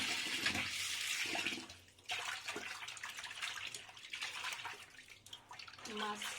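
Water runs steadily from a tap as pieces of rohu fish are rinsed in a basin, the broad splashing flow continuing throughout with brief dips, while a person talks over it.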